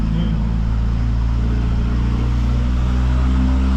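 A tuned car with a very large turbo idles and revs loudly and close, a deep steady engine drone filling the whole stretch, with someone talking briefly over it.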